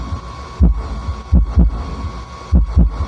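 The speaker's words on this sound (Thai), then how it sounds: "นี่นะฮะลำโพงซับทำงานแล้วนะครับ" A subwoofer driven by a TB21 mini Class D amplifier wired to a car power amplifier thumps out deep bass beats in close double pulses, loud and near, over a constant hum and cooling fan noise.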